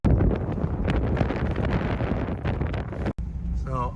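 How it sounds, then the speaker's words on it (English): Strong wind gusts roar across the microphone outdoors, a loud, continuous buffeting rush that drops out for an instant before resuming. "It's too windy for them to take that down."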